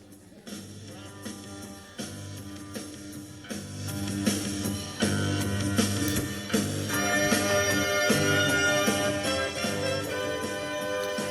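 Rock band music played back over speakers at a city council meeting. It is a dense, full mix that grows steadily louder and heard without talk over it.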